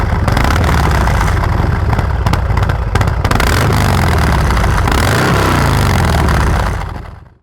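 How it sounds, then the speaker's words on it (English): A Harley-Davidson motorcycle with a modified, unrestricted loud exhaust idles and revs, heard close and very loud as a continuous thumping rumble that fades out at the end. "When Harley enthusiasts remove these restrictions, of course, we get more noise. But loud pipes save lives"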